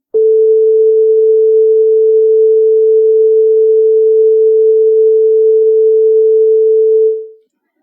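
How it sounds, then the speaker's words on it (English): A pure, steady sine tone at concert A holds for about seven seconds at constant volume, then fades out quickly. "This is the sound of frequency 440 Hertz."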